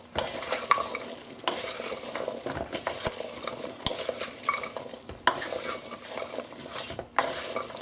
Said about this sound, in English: Just give it a really good stir.